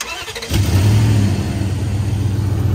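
A Dodge 1500 pickup's engine catches and roars into a loud, sustained rev, the throaty growl holding steady and close throughout.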